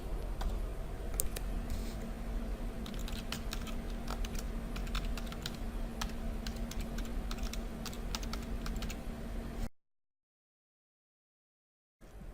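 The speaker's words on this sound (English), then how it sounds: "It's waiting for you to type your email." Quick, steady clicking of keys on a computer keyboard as an email address is entered, a close run of light taps over a faint background hum, ending in sudden silence.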